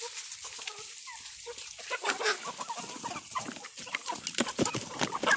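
Several chickens cluck softly and busily close by while eating colostrum, with scattered pecking and shuffling sounds, growing slightly more active toward the end.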